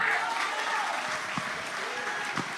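A church congregation applauds during a pastors' gathering, a steady wash of clapping from many hands that holds evenly through the moment, with a few faint voices mixed in beneath it.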